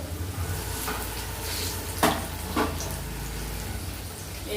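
Oil sizzles steadily as fritters fry in a pan, with a couple of brief clinks or scrapes partway through; no one speaks.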